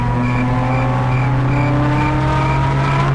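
A Mazda Miata race car accelerates hard off the green flag start, its engine note loud, close and steady, climbing gradually in pitch throughout with no pause.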